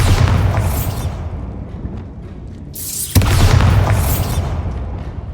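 The Bombarda explosion spell cast in the video game Hogwarts Legacy: two loud, close booming blasts, the first at the start and the second partway through, each fading into a rumbling tail, with no talking.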